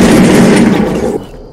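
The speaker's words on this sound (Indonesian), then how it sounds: "Siapa itu nembak?" Loud, close bursts of gunfire in Fortnite battle royale, a dense crackling volley that fades out near the end, with no voices over it.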